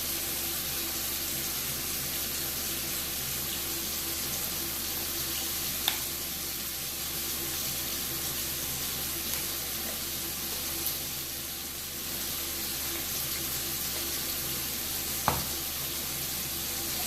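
Tap water runs in a steady, broadband hiss with a few small clicks and knocks, close and continuous, without any talking.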